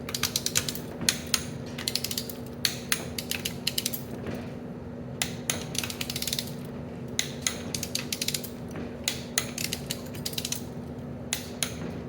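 Ratcheting clicks from a torque wrench tightening 8mm cylinder bolts to 18 foot-pounds on a Polaris Indy 650 triple snowmobile engine, in short repeated bursts with pauses between, close by, over a steady low hum.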